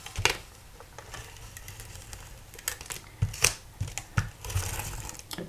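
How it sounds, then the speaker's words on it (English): A tape runner rolls adhesive onto paper at a table while folding an origami window: a few sharp clicks and crinkly dispensing rasps, close and fairly quiet, spaced irregularly over soft background hiss. "We're going to use our tape runner."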